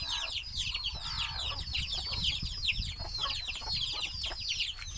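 Farm chickens, including organic free-range hens just given feed, cluck and chatter in a busy overlapping chorus, many calls layered close by with no speech.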